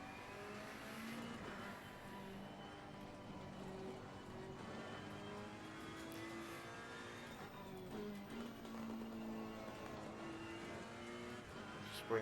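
Race car engine in Assetto Corsa Competizione, revving up and down through gear changes at the corkscrew, steady and prominent with harmonic whine, a faint tire squeal near the end.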